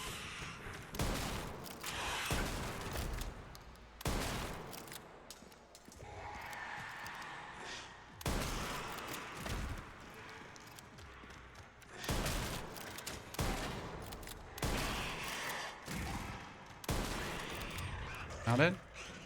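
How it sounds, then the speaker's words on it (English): Shotgun blasts in the video game Resident Evil Requiem, a series of sharp, loud booms spread through the passage amid game effects, with someone talking over them. "It's 3 shotgun shots and we get them down."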